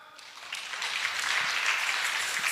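A church congregation applauding at a Sunday service, a swell of clapping that rises within the first second and holds steady and fairly loud to the end, no voices.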